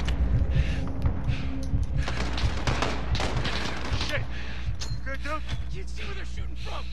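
Call of Duty Modern Warfare gameplay with sustained bursts of automatic gunfire and scattered shots over a constant low rumble, later thinning to distant pops and mechanical clicks.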